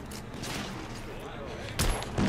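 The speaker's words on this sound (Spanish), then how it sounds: "O sea, dispara granadas automáticamente, ¿no?" Loud, dense gunfire and explosive bursts from an automatic grenade launcher in the video game The Order: 1886, a continuous roar of shots with a sharper blast near the end, no talking.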